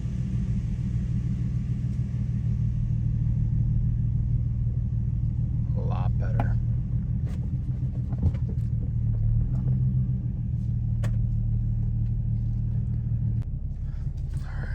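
Infiniti G35 or Nissan 350z with a freshly adjusted clutch pedal, driving around the block: a steady low engine and road rumble from inside the cabin, with a few brief clicks and knocks over it.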